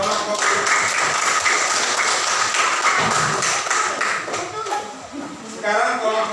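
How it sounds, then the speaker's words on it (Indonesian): Applause from a class of primary school pupils for a student group in a civics lesson: steady, dense clapping that fills the room at close range for several seconds, with a slight dip near the end before it swells again. "Kita berikan aplaus untuk kelompok."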